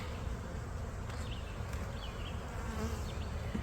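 Dense, continuous buzzing of many honeybees inside a hive during an inspection, close by, a steady droning swarm with no voices.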